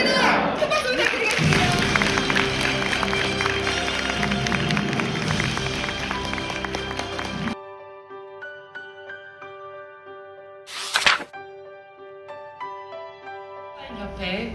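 Audience applause at a World Women in Maritime Day ceremony: loud, dense clapping with a crowd fills the first half, then cuts to quieter room sound with music and a short burst of noise.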